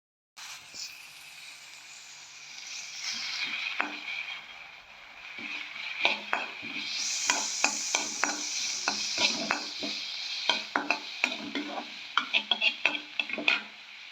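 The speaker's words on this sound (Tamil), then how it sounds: "எண்ணெய் நல்லா சூடேறவும் நறுக்கி வச்சுருக்கிற வெங்காயத்தை சேர்த்து வதக்கிக்கலாம்." Chopped onions stirred in hot oil in a pan, a steady sizzle with repeated scraping clicks of a utensil against metal, close and busy.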